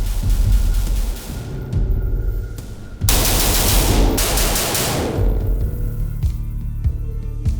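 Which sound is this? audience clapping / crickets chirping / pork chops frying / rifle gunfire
rifle gunfire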